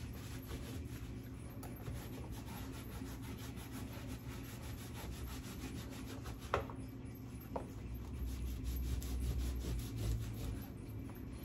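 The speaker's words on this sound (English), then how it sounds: "just rub away to reveal whichever parts you want to reveal" Steady rubbing and scraping on an old wooden trunk as paint is worn back to reveal detail, a continuous close rasp with a couple of sharper knocks partway through.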